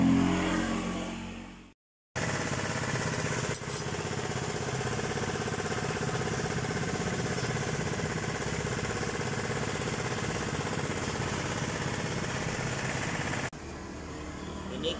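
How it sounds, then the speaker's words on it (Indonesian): A motorcycle brought in completely dead, with leaking oil and a weak CKP sensor flashing code 52, is started. After a short silence the engine catches and runs at a steady, revving drone close by for about eleven seconds, then drops off abruptly. "Jadi tugas saya di sini untuk menyalakan motornya."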